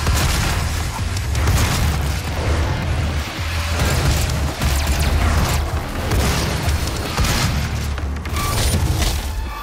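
Shotgun fire in the first-person shooter Doom (2016) sounds as a dense, loud barrage of booming blasts and bursts, continuous and close throughout, with no voices.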